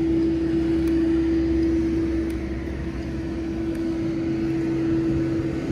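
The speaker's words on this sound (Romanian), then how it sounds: "a sosit avionul și plecăm spre București" Airplane at an airport, a loud, steady engine drone with a strong sustained hum and broad rumble, continuous and close throughout, no voices.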